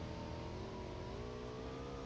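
A motorbike engine revs in the video game PUBG Mobile, a steady, fairly faint droning whine that rises slightly in pitch, heard alone with no talk.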